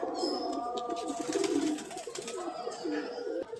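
Fantail pigeons coo nearby in soft repeated throaty rolls, a few birds overlapping in a steady murmuring stream, with no clear talking over them.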